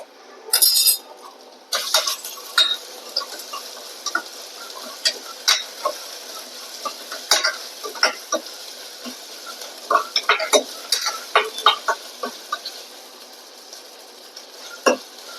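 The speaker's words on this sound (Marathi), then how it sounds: "आता याच्यामध्ये मी आले लसणाची पेस्ट आहे ती टाकणार आहे." Ginger-garlic paste and onion being stirred in a pan for a raw jackfruit curry, with a spoon scraping and clinking against the metal in an irregular rhythm over a soft sizzle, close and clear, no voices.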